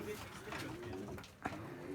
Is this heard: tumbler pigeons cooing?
yes